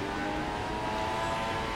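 An engine drones steadily in a Formula 1 2016 racing game, a continuous tonal whine at moderate level throughout the overtaking moment, with no distinct pass-by swell and no speech.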